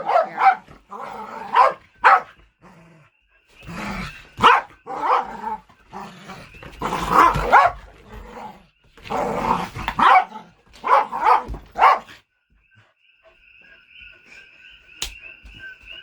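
A dog barks repeatedly in loud bursts up close, with growly yelps mixed in, then quiets; faint high insect-like chirping continues afterward.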